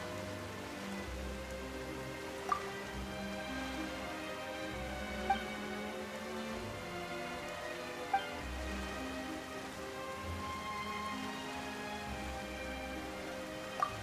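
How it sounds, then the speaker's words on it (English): Steady in-game rain from Genshin Impact falls evenly across the whole stretch with no talk, a continuous patter broken by a few faint isolated ticks. "Why is it raining all of a sudden?"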